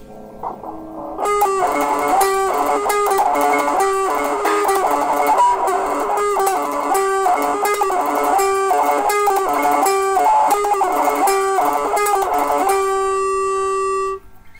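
A distorted electric guitar plays a choppy, repeating palm-muted riff, short muted notes, then ends on a ringing sustained note.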